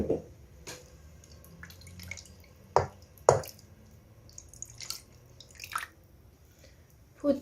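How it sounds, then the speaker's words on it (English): Oil, water and lemon juice go over a stuffed chicken in a cooking pot, heard as scattered wet drips and splashes with soft squishy spatters at irregular intervals, close by. "add the mixture of oil and water and some"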